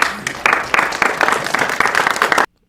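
Applause and clapping from an energized crowd at Kari Lake's press conference, loud and dense with rhythmic swells, cutting off abruptly into silence near the end.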